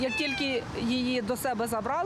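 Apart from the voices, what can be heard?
cat at a rabies vaccination event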